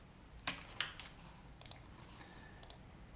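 Typing a number on a computer keyboard: a few faint, close key clicks, two sharper taps early then scattered lighter ones, quiet and with no talk.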